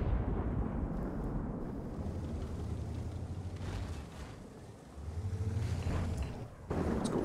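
Artillery and battle rumble from the WWII strategy game Order of War, with IS-2 tanks and pillbox guns in the fight: a dense, continuous low booming roar with repeated heavy thuds and swells, loud and unbroken with no speech.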